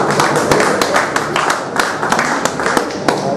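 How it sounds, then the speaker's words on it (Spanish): A small group at an evening bohemian music night in a city museum claps loudly and unevenly, with sharp individual claps standing out from the steady patter. "¡Aplausos!"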